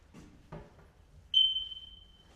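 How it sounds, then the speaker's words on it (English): A single shrill high-pitched beep from a smoke detector in an abandoned 1970s country home, sounding for about a second after a couple of soft thumps and then fading out. "Smoke detector is going off."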